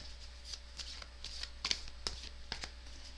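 Tarot cards being shuffled and drawn, a quiet run of soft, sharp card snaps and rustles at irregular intervals against a low background hum.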